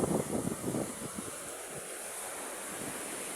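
Sea waves washing onto the shore as a steady broad rush, with a brief louder gust of wind buffeting the microphone at the start, and no voices.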